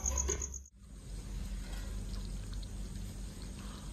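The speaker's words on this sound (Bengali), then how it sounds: "বন্ধুরা এই জলটা দিয়ে দিচ্ছি একটু।" Water pours into a pan of hariyali chicken curry, a brief splash at first, followed by a steady low bubbling and simmering wash that continues close by.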